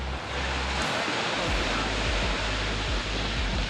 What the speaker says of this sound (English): The water wheel, powered by a spring-fed creek